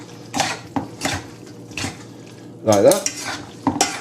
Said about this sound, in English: So now we're going to mix this together